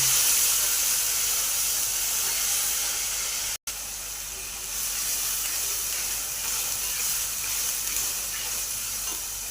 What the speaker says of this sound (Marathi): हे कांदा खोबऱ्याचं वाटण वाटून घेतलेलं हे टाकलं आणि आता हे चांगलं आपण परतून घेऊ